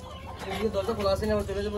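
Native Bangladeshi desi chickens cluck on a farm, a steady run of short, close clucks with some overlapping calls.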